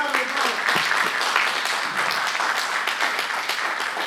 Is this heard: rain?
no